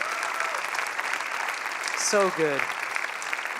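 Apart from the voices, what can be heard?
audience applause at a conference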